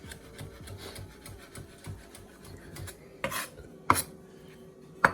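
Knife slicing onions on a board for Jamaican ackee and saltfish patties: soft, rhythmic rasping strokes followed by a few sharp, distinct chops against the board, close and clear, with no talking.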